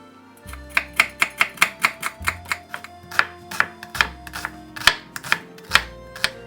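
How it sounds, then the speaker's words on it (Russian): Knife finely chopping an onion on a cutting board for soup, a steady run of crisp, sharp taps at close range, with no one talking. "Одну луковицу я нарезаю мелко."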